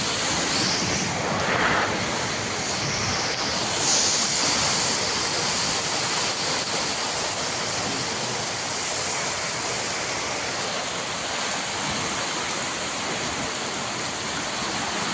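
Water rushes and flows in a loud, continuous, close torrent, a steady broadband roar with no pauses throughout.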